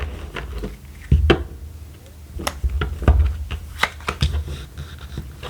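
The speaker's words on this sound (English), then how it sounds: "One more shuffle for Taurus." Quick papery riffles and soft taps of cards being shuffled, in irregular bursts close by, with no talking.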